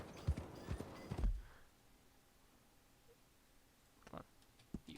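Horse hooves clip-clopping in a video game, a few sharp hoof knocks early, then quiet, with two more isolated clops near the end.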